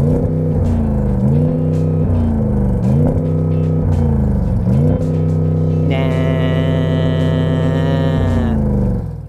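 Audi S8 V8 engine revved repeatedly while stationary, deep harmonic rumble rising and bouncing off the soft rev limiter several times, then holding steady with a high whine added, loud and close.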